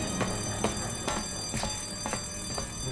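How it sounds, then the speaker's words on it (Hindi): A danger alarm bell rings in repeated strikes about every half second, steady and fairly loud over a constant background hum with no talking. "ये खतरे की घंटी है।"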